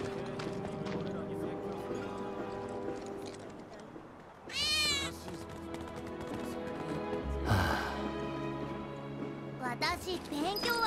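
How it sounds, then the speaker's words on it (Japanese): A cat meows in the Final Fantasy VII Remake video game, a few short rising cries heard amid in-game ambience and other effects, with characters talking around them. "この車、 猫の鳴き声しなかった。"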